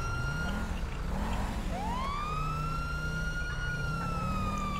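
A police car siren in GTA V wails steadily, its pitch sweeping up and holding, over a low rumbling engine drone.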